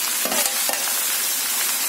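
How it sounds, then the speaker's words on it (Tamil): Chopped snake gourd hits a hot pan of sautéed onions for South Indian pudalangai koottu, producing a loud, steady close-up sizzle with a couple of brief stirring scrapes near the start. "இப்ப நம்ம புடலங்காய சேர்த்துக்கலாம்."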